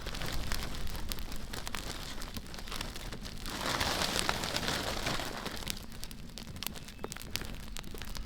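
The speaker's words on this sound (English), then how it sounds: "Keeps raining on and off, so I'm kind of just staying underneath the gazebo for the moment." Rain patters steadily on a gazebo roof and surrounding ground at a bush campsite, a continuous close hiss with scattered heavier drops, swelling slightly in the middle.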